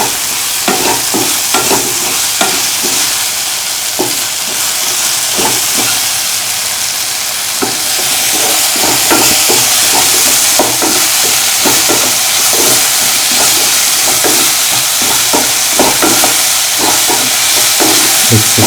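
Salt is stirred into a semolina batter in a bowl, a loud close run of repeated wet whisking strokes in a steady rhythm, with no talking.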